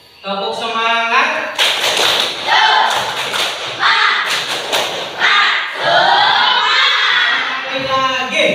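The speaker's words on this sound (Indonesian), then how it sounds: "Tepuk semangat." A group claps in a loud, rhythmic pattern and chants together in bursts of unison, with sharp, close hand claps and shouted voices.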